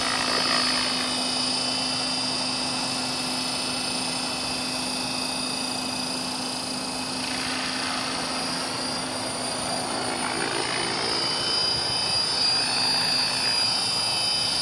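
A model AH-1 Cobra helicopter hovers close by on its maiden test flight, its rotor and engine making a continuous high, even whir with a slight shift in pitch partway through.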